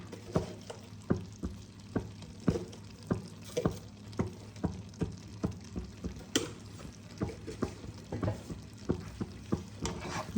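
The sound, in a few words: stirring mixed vegetables in a pan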